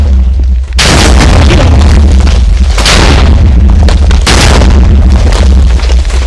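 Loud, sustained explosion blasts in the Minecraft video game, a heavy boom erupting after a brief quiet and rolling on with further bursts over several seconds, with no talking.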